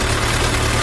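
A motorbike engine running at a steady idle, a loud, close, continuous low rumble with even vibration and no speech.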